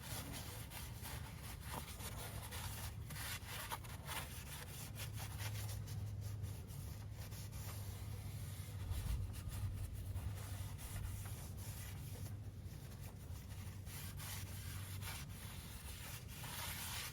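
A lint-free rag is rubbed briskly over clutch parts, making a close, continuous scrubbing and wiping swish with quick repeated strokes and no talking.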